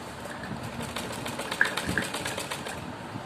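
A sewing machine stitches a suit seam with a steady, low mechanical hum and faint rapid ticking, running continuously at moderate level without voices.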